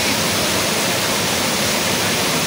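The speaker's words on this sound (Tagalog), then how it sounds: "para makita ang lagaslas ng falls" Balagbag waterfall rushes with a loud, dense, unbroken roar of falling water, close and steady throughout.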